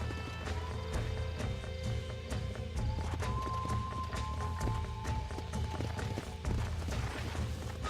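Horse hooves clip-clop at a steady, rhythmic pace in the Western video game Red Dead Redemption, close and continuous over faint in-game tones.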